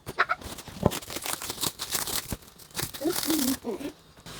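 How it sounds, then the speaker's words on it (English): Packaging on a motorcycle top rack for a Bajaj Dominar being torn and crinkled open in close, irregular bursts, with a voice talking briefly partway through. "Once again I will unwrap this material and I will show you."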